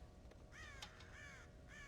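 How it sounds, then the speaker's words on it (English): Crows caw in Red Dead Redemption at a farm silo, with a few harsh calls in quick succession, moderately distant over a quiet background. "God damn crows!"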